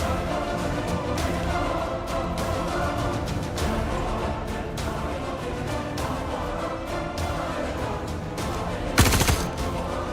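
Gunfire in a shooter video game: dense, loud bursts of rapid automatic shots layered over a busy game soundscape, with one sharper, louder blast near the end and no talk.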